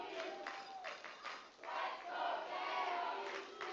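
A rugby crowd at a women's national championship final between Ottawa and Queen's roars and cheers for their team, a broad sustained swell of many voices that rises and stays loud.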